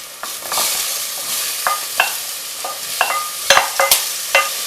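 Chopped red peppers tossed into a hot frying pan for chilli con carne sizzle steadily while a utensil stirs them, with repeated sharp scraping knocks against the pan over the continuous hiss.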